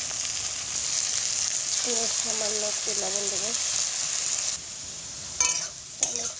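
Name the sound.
onion and potatoes frying in a pan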